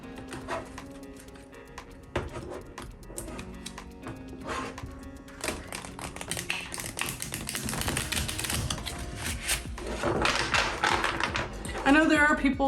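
Tarot cards are shuffled by hand, a flurry of rapid crisp flicks and taps that grows busier and louder, with a voice talking at times.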